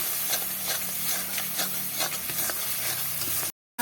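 Spice masala mixed with tomato sauce fries in a pan at home, giving a steady close sizzle broken by repeated scraping strokes of a stirring spoon, with no talking.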